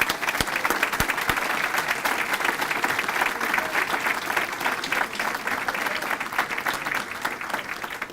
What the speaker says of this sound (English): So Jeff Worth, if you'd stand and take some applause